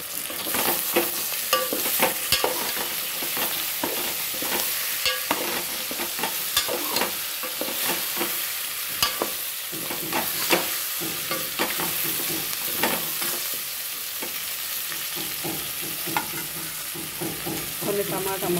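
Okra fries in oil with salt and tamarind juice, giving a steady close sizzle broken by frequent scraping and clinking as the pan is stirred throughout.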